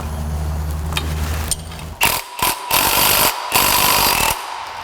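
Hand tools work on the power steering pump pulley bolts of a Chevy 5.7L engine, with loud metallic ratcheting and clanking bursts in irregular spurts after a quieter rumbling start.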